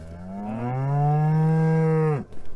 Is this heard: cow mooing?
yes